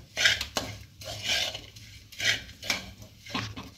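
Moong filling with grated coconut and date jaggery is stirred in a pan, with close scraping strokes of a spoon against the metal coming in a slow, steady rhythm.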